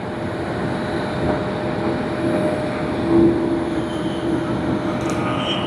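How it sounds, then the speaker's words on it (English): A United airliner taxiing at Tokyo Haneda Airport, a steady distant engine roar with a faint high whine that swells slightly midway. "And we have United. It's taxiing."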